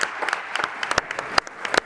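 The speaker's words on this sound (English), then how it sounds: "Round of applause for Dr." Scattered applause from a small audience after a speaker, Dr. Mark Costas, finishes. Loose individual claps with sharp distinct hits rather than a dense roar, fairly close and moderately loud.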